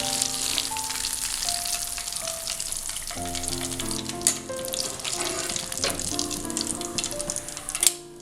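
Chicken popcorn deep-fries in hot oil over a high flame, a constant loud crackling sizzle close by, with a couple of sharper clatters as pieces are scooped out of the oil.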